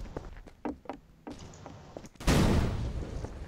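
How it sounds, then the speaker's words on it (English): In the video game Garry's Mod, scattered clicks and thuds lead into a sudden loud explosion that bursts out and rolls on with a noisy, decaying roar. "Where are these explosions?"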